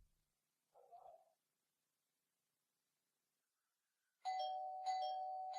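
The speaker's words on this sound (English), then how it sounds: "rang the doorbell a few times" A brief muffled tone, a pause, then a bright electronic doorbell chime ringing repeatedly, clear and close with steady ringing tones.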